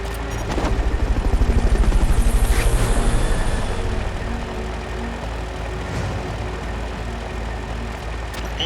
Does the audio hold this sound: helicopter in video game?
yes